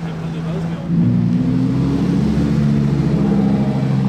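A red Ferrari Purosangue V12 SUV revs close by, a low steady engine roar that swells and deepens after about a second. It then holds a loud, rumbling drone as the car pulls away on a Monaco street, with a voice speaking faintly underneath.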